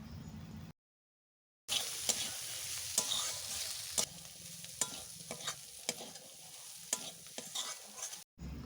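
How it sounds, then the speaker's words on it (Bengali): Turmeric and ginger paste frying in a pan, a close, steady sizzle with frequent scraping stir strokes, broken by a short stretch of total silence near the start. "হলুদ আর আদা দেওয়ার পর আরও ভালোভাবে আমি 2 থেকে 3 মিনিট সময় নিয়ে ভেজে নেব"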